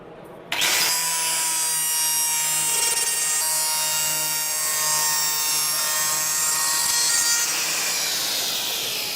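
A Kaindl Woodcarver Gold 115 mm disc on an angle grinder carves wood with a loud, sustained whine and rough shaving noise, starting abruptly and running steadily up close with no voices.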